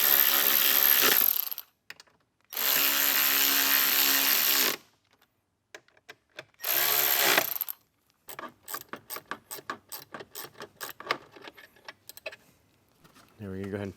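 Ratchet wrench tightening a side screw on a 2024 Jeep Wrangler speaker panel, with bursts of loud whirring alternating with rapid clicking ratchet strokes, close up.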